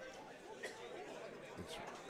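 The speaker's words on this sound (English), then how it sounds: "you can hear the crowd getting a lot louder right now" Crowd chatter at a pool match in the 2015 Steinway Classic, a steady dense murmur of many voices filling the room, a few louder exclamations rising out of it, with no clear single speaker.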